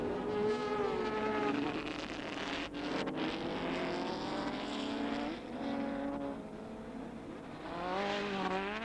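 A 1100 racing sidecar outfit on the front straight at the 1987 NZ Grand Prix: the engine screams at high revs, its pitch climbing steadily through the gears, loud and close, with no one talking.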